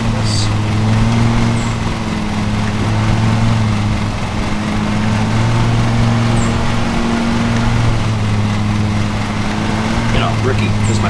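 A lawn mower engine in a mowing simulator game drones steadily at a constant idle-like pitch throughout, loud and close, with someone talking occasionally over it.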